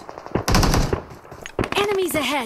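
Gunfire in a PUBG Mobile firefight on the Sanhok map: rapid bursts of automatic shots, loud and close, with a second cluster of shots following and a voice heard over the later part.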